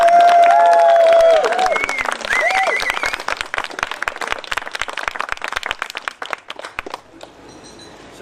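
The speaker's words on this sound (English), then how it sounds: "As is a big round of applause." Wedding guests in a garden ceremony break into applause after the vows, loud dense clapping with a few cheers that thins out into scattered claps and then stops.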